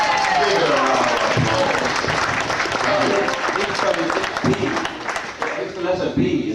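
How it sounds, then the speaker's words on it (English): A convention audience at a Doctor Who fan event in 2005 applauds in a loud wash of clapping while someone speaks over it through a microphone, the applause fading slightly toward the end. "give it a round of applause"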